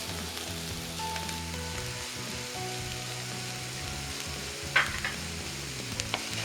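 Grated coconut fries in a pan with a steady, close sizzle, dry crackles and a brief sharp scrape of a spatula stirring near the end.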